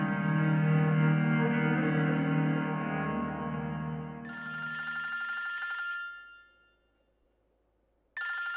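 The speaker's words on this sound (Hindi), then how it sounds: "आसिफ, आपका फोन है।" A telephone bell rings loudly in a drama scene, its harmonic trill repeating in bursts under fading background music, then stopping briefly before ringing again near the end.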